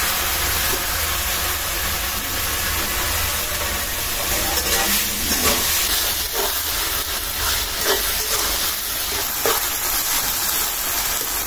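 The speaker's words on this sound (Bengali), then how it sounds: "এখন ভেজে রাখা ইলিশ মাছের মাথাটা দিয়ে দিলাম।" Fried hilsa fish head dropped into taro leaves cooking in a pan with coconut, a loud, steady steam-like hiss and sizzle that fills the whole stretch, with a few bubbling spits near the end.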